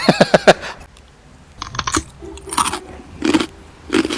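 Crunchy bites and chewing of fried eggplant, a few sharp crisp snaps early on, then slower moist chewing bursts with pauses between them, close to the mic.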